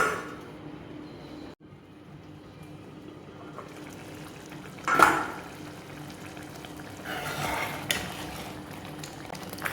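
Mutton gongura curry simmering in a covered pot, a soft steady bubbling hiss with a few louder pops, no talking.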